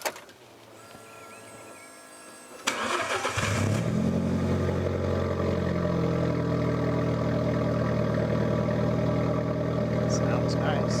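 A car engine turns over after a quiet interior moment, catching with a sudden burst and then settling into a steady, rumbling idle that continues close by. A voice is heard in the clip.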